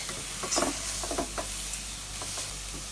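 Kale mallum, a shredded kale-leaf dish, cooks in a pan with a constant loud hiss of frying and a few soft scraping strokes as it is stirred.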